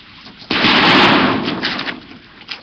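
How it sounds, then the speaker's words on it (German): A short burst of gunfire from a Kalashnikov rifle cracks out suddenly, loud and close, then fades into a lingering echo over about two seconds. "Plötzlich fallen Schüsse."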